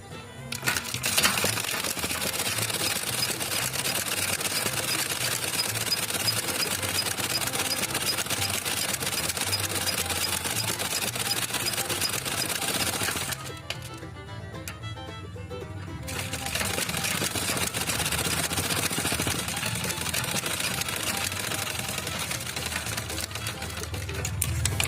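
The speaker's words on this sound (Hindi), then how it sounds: "इसमें भी हम मार्जिन रख करके सिलाई लगाएंगे।" A sewing machine stitches petticoat panels with a margin, its rapid rattling run continuing close and loud, with a brief pause midway before the stitching resumes.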